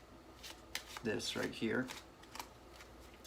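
An overhand shuffle of playing cards produces a quick cluster of papery riffling bursts near the middle, with someone talking throughout at close range.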